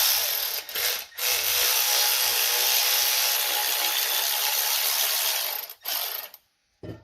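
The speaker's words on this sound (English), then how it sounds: "we're gonna take out the fuel pressure regulator here. It's an 8mm socket." A ratchet with an 8mm socket loosens the fuel pressure regulator on a Jeep YJ, producing a loud, close, sustained run of fast clicking that stops abruptly near the end.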